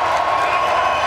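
Loras College crowd cheering during a men's volleyball match against Carthage College, a steady, dense wash of voices and shouts in an indoor gym, continuous and fairly loud throughout.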